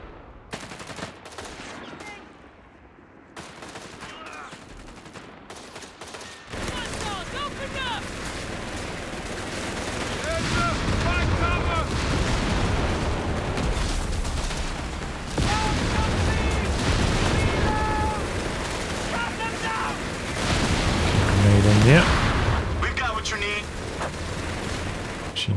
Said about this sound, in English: Machine guns holding strong though.